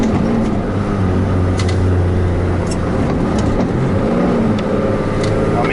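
A 1994 Toyota Coaster bus engine labours steadily in second gear up a very steep hill, a loud, continuous low drone with a constant rumble throughout.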